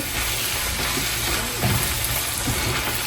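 Tomatoes and spices frying in a pan for a home-cooked sauce, giving a steady low sizzle with soft scraping and stirring throughout, close and moderately loud, with no talk.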